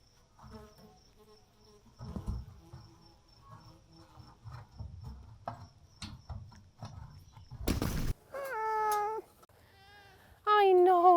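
Trapped feral cats meow during a rescue, with several drawn-out, wavering cries near the end following quieter rustling and small knocks, and one loud burst of noise just before the meows.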